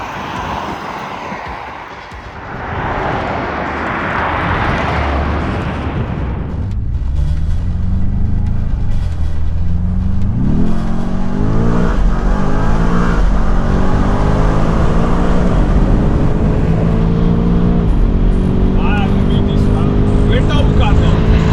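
A BMW M5 G90 accelerates hard from a rolling start. The engine note rises loudly through stepped gear changes, close and sustained, after a brief stretch of voices.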